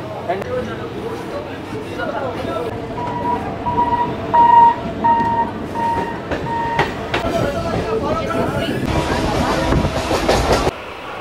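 A Howrah local train on Eastern Railway rumbles and rattles along with clicking wheels and tonal horn or brake whines, ending in a loud noisy burst, while a person talks over it.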